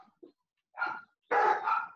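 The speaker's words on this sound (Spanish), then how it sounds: "todos los perros se ponen insoportables" Several dogs bark in the evening in bursts: a few faint yips, then two louder sustained runs of barking close by, with no talk over them.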